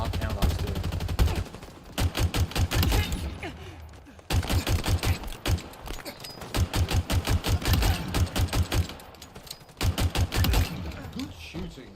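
Rapid automatic gunfire in a Halo video game, several sustained bursts of evenly spaced shots separated by short pauses, loud and close.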